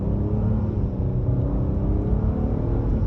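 A car accelerating at half throttle, its engine giving a steady, loud, low rumble that holds throughout with no voices over it.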